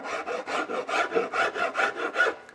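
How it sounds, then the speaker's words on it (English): Hand file rasping excess glue off the edge of wood veneer, a steady run of about nine rhythmic back-and-forth strokes, close and fairly soft, with no talking. "The trick here is not to go too far with the file."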